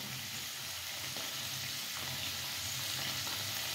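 Paneer fries in a pan with a dense, continuous close sizzle and crackle, steady and fairly loud with no talking.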